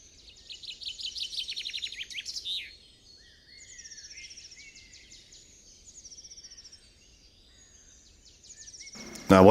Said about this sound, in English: Nice little dicky birds, the finches. That's a green finch